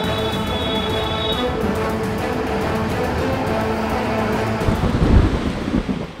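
Heavy rain and a wind storm lash Mandya in Karnataka: a steady, dense roar of downpour and gusts, swelling into a louder, rumbling surge near the end, with no voices.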